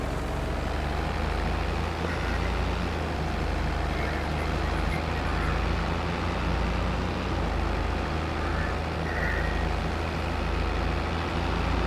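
Farm tractor towing a heavy tipping trailer in a farming video game, a steady low engine drone with rumble running throughout at constant loudness.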